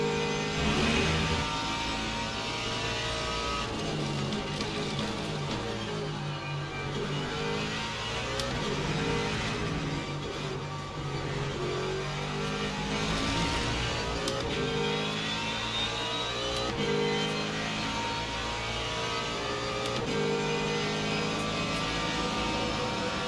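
Ford Mustang GT3 race car in Le Mans Ultimate at Imola, its engine droning loud and continuous with repeated rises and falls in pitch through gear changes, no voices over it.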